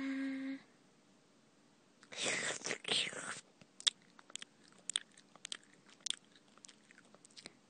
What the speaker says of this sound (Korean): 라면 먹자